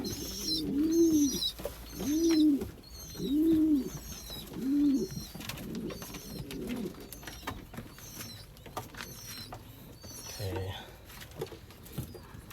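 Pigeons coo in a steady series of soft, rounded calls close by, with faint background chatter and small rustles between the phrases.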